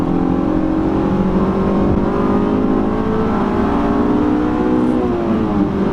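A stock Honda S2000 sports car engine revs loudly and steadily, its pitch climbing as it pulls through the gears, close and continuous with a brief shift near the end.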